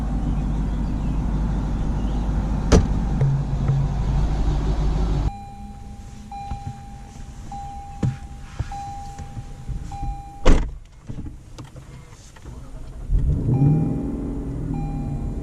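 A Lexus LC500 engine heard from the cabin with the windows up: a strong low rumble at first, then a quieter, smoother drone with a faint steady whine and a few sharp clunks before the rumble swells again.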